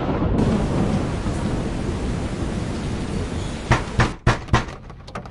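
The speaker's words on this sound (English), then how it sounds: "There's a storm outside." Heavy rain pours through a thunderstorm in a steady loud hiss, then a series of sharp thunder cracks and rumbles erupts near the end.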